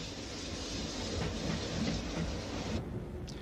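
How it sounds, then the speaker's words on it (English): A train for Shrewsbury pulls into a high-level station in Wales behind a British Railways Standard Class 5 steam locomotive, with a steady, close rumble of rolling wheels and rhythmic clickety-clack over rail joints, no voices. "a train for Shrewsbury arrives behind a British Railway Standard Class 5 460"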